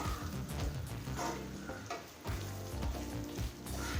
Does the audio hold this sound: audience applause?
no